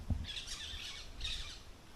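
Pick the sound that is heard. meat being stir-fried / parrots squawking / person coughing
parrots squawking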